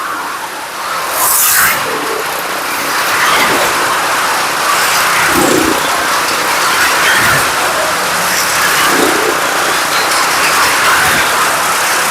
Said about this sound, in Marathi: गाडी चालू झालेली आहे चालू झालेली आहे गाडी